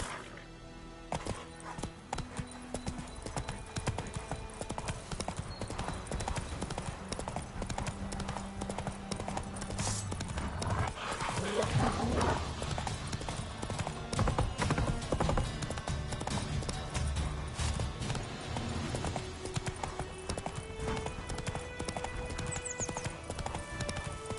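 Galloping horse hooves in The Witcher 3 video game pound in a steady clip-clop rhythm through the whole stretch, loud and continuous under game music and ambience, with brief speech.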